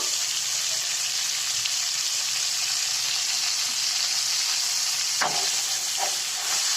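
Dried chili powder and cumin powder frying in oil in a pan for a fish curry with kali baus and water lily stems, a steady close sizzle with a few faint stirring clicks.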